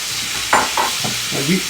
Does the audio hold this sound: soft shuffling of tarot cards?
no